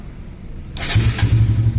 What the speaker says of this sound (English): So now we are all good to start the bike.